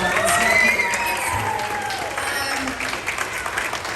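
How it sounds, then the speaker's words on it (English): A crowd gives a round of applause, a dense burst of clapping that fades over a few seconds, with voices and cheers mixed in. "I would just love to give this lady a round of a massive applause."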